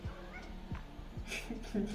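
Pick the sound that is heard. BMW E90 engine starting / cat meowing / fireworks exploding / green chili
cat meowing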